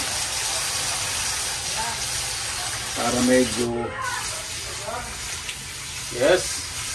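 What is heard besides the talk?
pouring water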